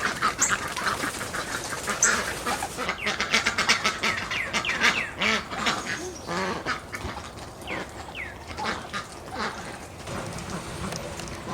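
Ducks quacking at a farmyard, a busy, close flock calling over one another in repeated bursts, loud at first and continuing steadily, with a faint voice now and then beneath the calls.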